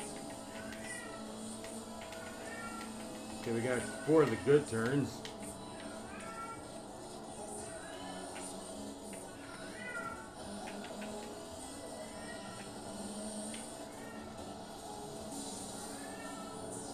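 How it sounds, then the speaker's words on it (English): A house cat meows repeatedly in the background, faint, scattered calls over a steady racing game din from Forza Motorsport 7 on Xbox One, with someone talking briefly partway through. "Hear my cat meowing in the background."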